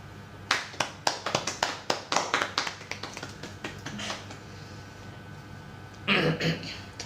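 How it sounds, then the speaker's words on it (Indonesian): A handful of people clap in a maths classroom, a burst of sharp, uneven claps that thins out over a few seconds, followed by a brief louder rustle near the end. "Tepuk tangan untuk saya."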